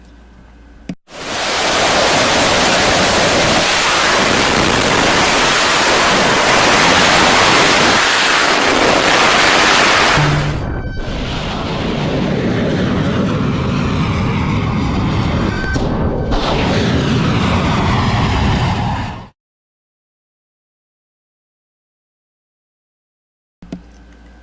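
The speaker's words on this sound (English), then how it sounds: "It's jets. They're going to be flying around. They're going to be loud." Jet aircraft fly overhead with a loud, broadband roar that holds steady for nearly twenty seconds, eases briefly midway, then cuts off sharply into silence. No voices are heard.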